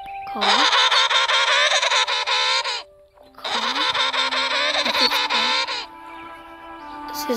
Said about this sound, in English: This is a penguin. Can also call.